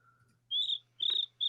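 A voice imitates a cricket with three bright, shrill whistled chirps in a quick sequence, fairly close and clear, with a faint low hum underneath and no talking.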